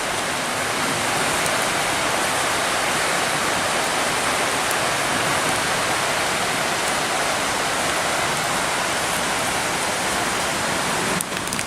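River water pours and splashes continuously through a filter in a dense, steady hiss, loud and close, without pause.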